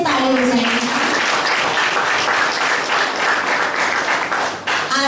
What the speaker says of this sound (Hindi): अपने लिए एक बार जोर से ताली बजाएंगे